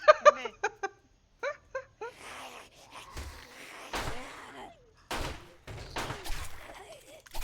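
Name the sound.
gunshots in 7 Days To Die video game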